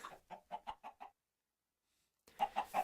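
Minecraft chicken clucking in the game: a run of five short clucks, a long silent gap, then three more clucks, all clear and close with no talk.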